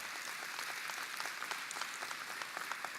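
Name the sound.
applause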